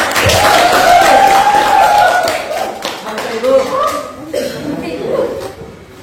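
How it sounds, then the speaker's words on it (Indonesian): A classroom of seventh-grade students claps in a brief burst of applause, mixed with chuckles and voices, fading into scattered taps and talk. "Oke, tepuk tangannya bro."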